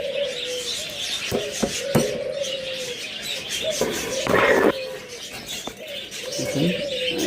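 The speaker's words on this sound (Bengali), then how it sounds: "এই যে একটা পাখি দেখাতেছে আর একটা আবার ঢুকিয়ে গেছে।" Pigeons in a breeding loft coo repeatedly at close range, with soft chirps, a few sharp knocks and a brief flutter of wings between calls.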